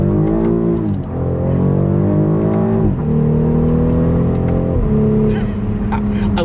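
A 2026 BMW X5 pulls hard in manual mode, its engine climbing loudly through held gears with two clear upshift dips and small exhaust pops crackling near the end.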